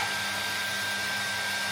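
A hair dryer blows steadily at close range, a dense continuous whoosh with a faint motor whine, running without a break while someone bathes and dries off.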